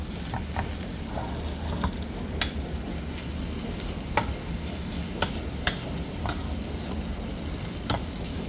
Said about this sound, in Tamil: இப்போ இதையும் சேர்த்து நல்லா மிக்ஸ் பண்ணிக்கிறணும்